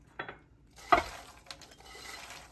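Popcorn tipped into a pot of caramel, heard as a few close clinks and scrapes against the pot followed by light rustling and a faint sizzle, with no talking.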